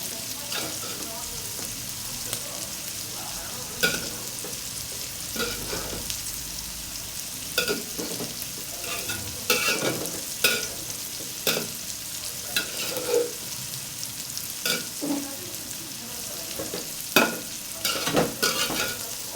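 Red spinach is stirred in a pan as it cooks for a Bengali curry. A continuous sizzle runs under repeated spatula scrapes and clacks that come in loose bursts across the stretch.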